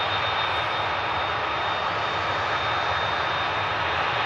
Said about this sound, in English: Saudia now on the taxi.